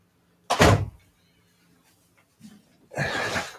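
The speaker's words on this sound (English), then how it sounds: "let me shut this door because it's echoing in the hallway" An office door is pushed shut with a loud nearby thump, followed by quieter rustling and a second broad, sustained burst of noise, with no talking.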